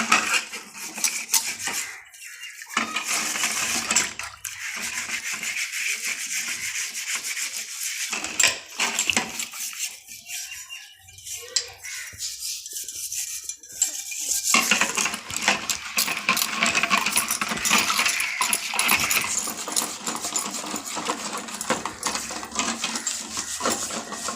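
Brass puja vessels clatter and scrape as they are scrubbed and handled, with frequent metallic clinks, rubbing and knocks coming in uneven bursts close by, broken by a few short pauses.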